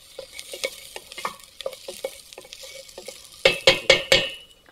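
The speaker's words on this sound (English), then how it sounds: "I'm going to continue stirring here just for a little bit" A spoon stirs shredded vegetables and fresh ginger in a pot, making a run of soft scraping, clattering strokes that turn into four louder, sharper knocks near the end, close and with no talking.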